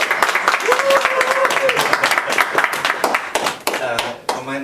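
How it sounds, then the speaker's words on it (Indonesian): Applause from a church congregation at a gathering in Seoul, with dense clapping under an indistinct voice and a brief tonal note, holding steady for several seconds before thinning out. "Tepuk tangan yang meriah dong,"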